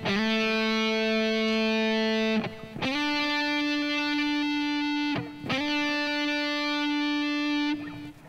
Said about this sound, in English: where you slide into your following note quickly, where you don't hear the note you're sliding from.